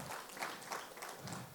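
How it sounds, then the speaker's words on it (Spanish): A church congregation claps during a sermon, faint and somewhat distant, a short burst of scattered applause rising and falling in the background. "Denle un fuerte aplauso"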